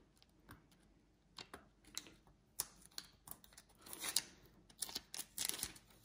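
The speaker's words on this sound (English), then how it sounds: "we're going to go ahead and pull off these stickers" Stickers being peeled off a baseball cap, a quiet run of crisp tearing and crinkling snaps that grow busier toward the end.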